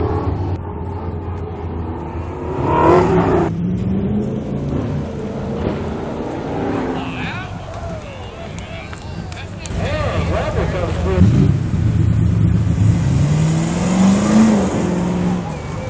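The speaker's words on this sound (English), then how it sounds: "Paul Alderman's 70 Camaro, which just came out of Detroit Speed and Engineering Shop" A 1970 Camaro fitted with Detroit Speed parts and a Mass Motorsports LS V8 runs an autocross course in Scottsdale, Arizona. The engine hums and revs steadily throughout, with rising and falling pitch as it accelerates, while a voice talks over it.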